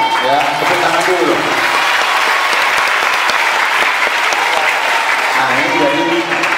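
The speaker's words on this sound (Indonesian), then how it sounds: "Jadi adik-adik, ya, tepuk tangan dulu." Schoolchildren at an Islamic boarding school in Jember, East Java, applaud together in dense, steady clapping that fills the room, with a voice briefly audible at the start and end.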